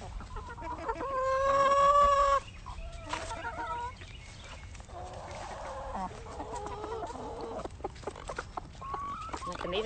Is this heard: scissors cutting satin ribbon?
no